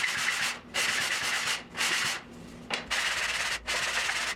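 Wooden drum reinforcement rings are pressed against a sanding table in several long rasping strokes, each a loud, even gritty hiss separated by brief pauses.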